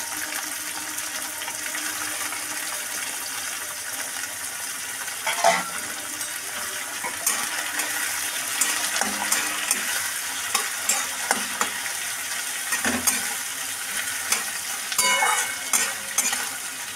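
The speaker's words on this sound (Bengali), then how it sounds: "এবার তেল গরম হয়ে গেছে, এবার পেঁয়াজ কুচি দিচ্ছি।" Chopped onions hit hot oil in a pan for a Bengali kochu shak dish and sizzle and crackle steadily up close, with stirring scrapes and a few louder spatters along the way.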